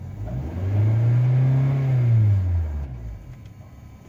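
A Honda car engine with a knock sensor circuit fault cranks and catches, then runs at a steady, loud low rumble with a brief rev that settles back toward idle.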